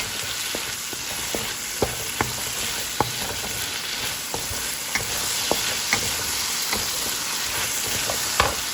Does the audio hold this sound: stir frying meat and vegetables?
yes